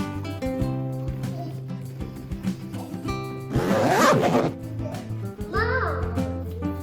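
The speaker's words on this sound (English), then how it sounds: "You gonna zip it up?" A clothing zipper is pulled up in a quick, close, scratchy burst partway through, followed by a second shorter zip, amid the chatter and play of children in a living room.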